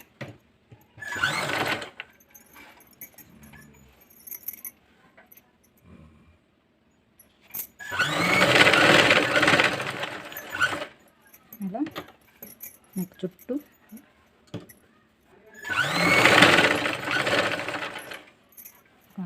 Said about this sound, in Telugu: నెక్ రౌండ్ చుట్టూ ఒక స్టిచ్చింగ్ చేసుకోండి